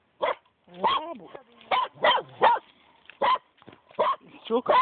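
A dog barks and yips in several short, loud bursts spread unevenly through the moment, mixed with nearby people talking.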